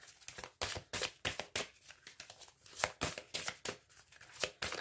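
A deck of tarot cards being shuffled and drawn close up: quiet, crisp papery riffles and flicks in quick, uneven bursts with short pauses between them.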